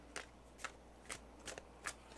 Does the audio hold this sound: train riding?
no